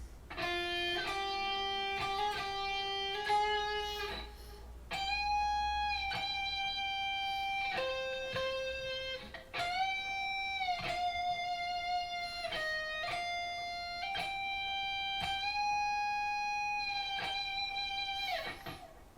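Clean, sustained electric guitar solo melody from a song, a string of singing single notes with bends and slides, played alone at moderate volume for the whole stretch.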